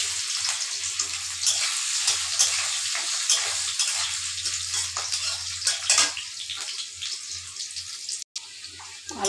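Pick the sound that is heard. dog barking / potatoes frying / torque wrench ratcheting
potatoes frying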